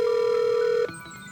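A telephone tone sounds while a caller rings a company's investor relations team: one loud, steady tone lasts under a second and then cuts off, leaving faint line noise.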